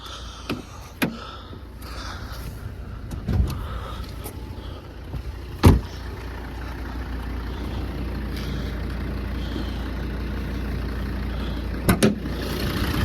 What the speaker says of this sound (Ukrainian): Подивіться, як він муркоче